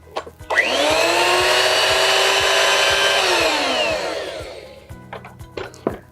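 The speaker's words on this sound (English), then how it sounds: "take the 2-prong and plug it into the top of the direct connect head, and then turn it on" A GV direct connect vacuum power head, plugged into a house outlet, whirs up to a steady high motor whine, runs for a few seconds, then winds down, with clicks and handling noises at the start and end.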